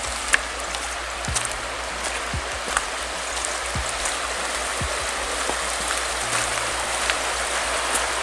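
Water rushing steadily across flooded ground beside a riverside bivouac, a continuous broadband wash like heavy rain or a stream, close and even in level, with a few brief knocks and no talking.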